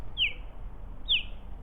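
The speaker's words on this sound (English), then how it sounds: "I think the Osprey felt it. Hear him chirping?" Two short, bright chirps from an osprey, evenly spaced about a second apart, sounding moderately close over a low, steady background rumble.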